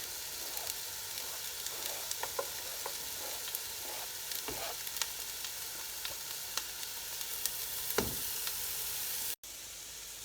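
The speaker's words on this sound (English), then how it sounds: "So I'm just going to braise this till it turns slightly brown." Food in hot oil in a pan for a tomato stew gives off a steady, moderately quiet sizzle with scattered small pops and crackles throughout, no voices, cutting off abruptly near the end.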